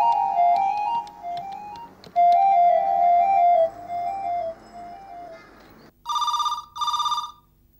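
A telephone rings in two short electronic bursts near the end, after a stretch of quieter tonal music.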